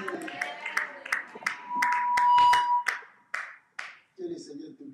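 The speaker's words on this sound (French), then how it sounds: "Acclame bien, acclame bien." A church congregation claps hands at a Friday evening service in a quick, uneven burst under chanting voices, with a sustained tone through the middle before the clapping stops.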